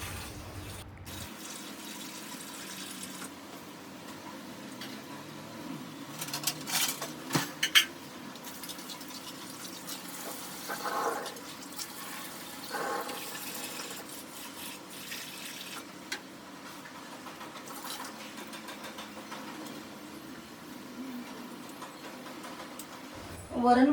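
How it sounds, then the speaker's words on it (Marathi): Dishes being scrubbed and rinsed at a home kitchen sink, with soft running water and occasional clinks of utensils, fairly quiet and steady throughout. "पहिली भांडी घासून घेऊया आता."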